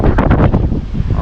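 Strong gusts from Typhoon Pepito near a river, loud rough wind buffeting the microphone in brief bursts.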